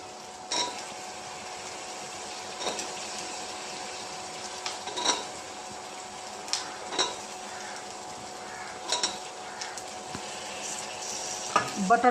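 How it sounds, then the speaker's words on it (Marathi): Masala and potatoes are sautéed in a pan with a low constant sizzle, punctuated every couple of seconds by scattered clinks and scrapes of a spoon against the pan. "मसाला चांगला परतायचा त्याच्यामध्ये."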